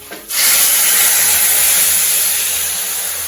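Hot tempering oil with lightly browned urad dal and chillies poured into a dish, bursting into a loud, close hiss right after a brief quieter moment and holding steady before easing slightly.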